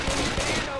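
Rapid video game gunfire rattles through a short burst, a dense stream of shots at moderate loudness over a noisy game mix.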